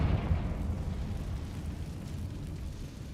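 Explosion from a Bombarda or Confringo spell in the Hogwarts Legacy video game: a loud, deep blast that rumbles and slowly fades over several seconds.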